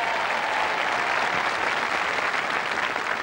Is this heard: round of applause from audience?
yes